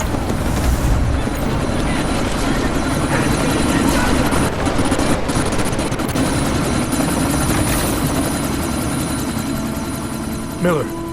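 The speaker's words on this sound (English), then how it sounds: "We can't let that chopper take off, Jensen." A helicopter in the video game Deus Ex: Mankind Divided roars steadily through the scene, its dense rotor and engine noise filling the background while characters talk urgently over it.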